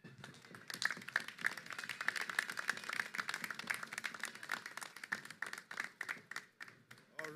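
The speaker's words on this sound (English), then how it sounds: "I think we need to give her a better round of applause for that" A modest crowd at an Emancipation Day morning gathering gives a burst of dense, crackling applause that swells, holds steady for several seconds, then thins into scattered individual claps before tapering off.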